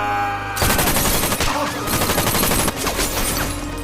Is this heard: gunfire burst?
yes